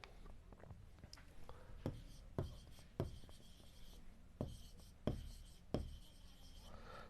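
Pen on paper writes out accounting items in soft scratching strokes, punctuated by several sharper taps and dashes at irregular intervals, very quiet and close with faint background hiss.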